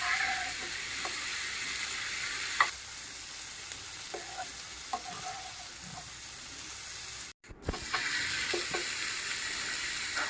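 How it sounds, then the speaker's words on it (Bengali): Meat frying in a pan with pepper and coriander powder, a continuous close sizzle with occasional stirring knocks and a brief dropout near the end. "ভালো করে মিক্স করে নেব ভাজা ভাজা ভালো করে ফ্রাই করে নেব"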